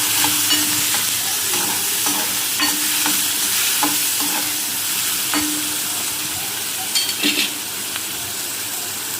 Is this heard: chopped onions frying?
yes